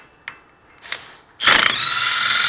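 An impact gun with a 1/2 to 3/8 inch adapter loosening a bolt on a Toyota rear wheel bearing. A couple of short clicks come first, then a loud, close burst of rapid hammering that settles into a steady whirring spin.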